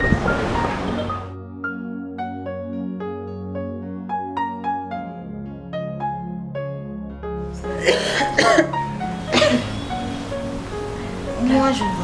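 A person coughs and clears their throat on a boat, with short harsh bursts near the start and a cluster of rough coughs toward the end, between stretches of melodic background music.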